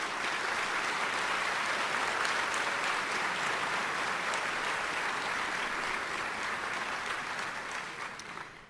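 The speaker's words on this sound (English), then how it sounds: "I think she deserves a round of applause" A round of applause from an audience at a city's State of the City address, steady and sustained from a moderate distance, tapering slightly toward the end with no speech over it.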